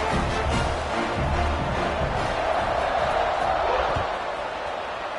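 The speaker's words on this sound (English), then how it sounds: "this crowd is buzzing after that last score" Stadium crowd at a college football game between West Virginia and Syracuse, a loud continuous roar and buzz filling the whole span, with broadcast commentary talking over it.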